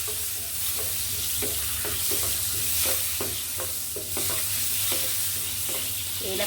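Whole cardamom, cinnamon and cloves fry in hot oil for a biryani-style dish, a steady close sizzle running throughout with soft repeated clicks of stirring.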